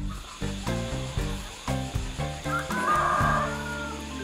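A person's voice imitates a rooster crowing in a string of loud, close, choppy bursts that end in a longer drawn-out call, with no other sounds.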